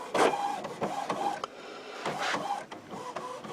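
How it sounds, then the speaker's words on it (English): Printer running a head cleaning cycle, with repeated whirring motor passes, clicks and mechanical chatter rising and falling in short rhythmic bursts, close and fairly quiet. "let's turn the printer on and run a cleaning and then a nozzle check. The cleaning, you can hear it clean."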